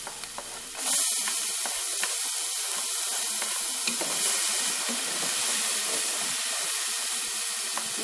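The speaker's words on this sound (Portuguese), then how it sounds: "agora eu coloco o pimentão" Chopped bell pepper hits a hot pan of browning ground meat with a sudden loud burst, then settles into a dense, steady sizzle and hiss that runs on without voices.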